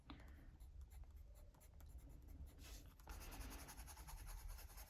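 A Graphitint pencil in Shadow scratches and rubs across paper in close, soft strokes with uneven rhythm, quiet and alone.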